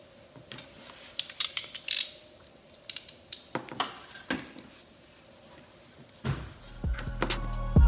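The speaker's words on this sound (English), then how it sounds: "I need to crimp this." Hand crimping tool squeezing a wire connector during trailer marker light wiring, heard as a series of faint ratcheting clicks and creaks scattered over several seconds, with a few louder clacks near the end.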